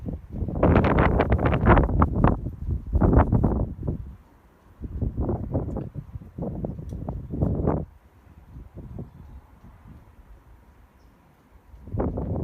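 Strong outdoor wind buffets the microphone in loud, rumbling gusts, some long and some short, with calmer stretches between and a steady faint hum beneath; no one speaks.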